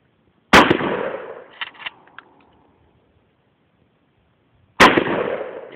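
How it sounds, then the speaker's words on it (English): A Mossberg 590 shotgun fires outdoors, two loud sharp blasts several seconds apart, each followed by a brief echoing tail and small clatter. "shooting the shotgun"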